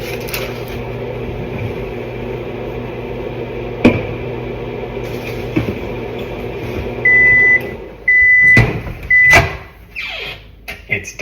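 A microwave oven heating overnight oats hums steadily, then its door clunks and a few loud beeps sound in short bursts near the end, with scattered handling knocks.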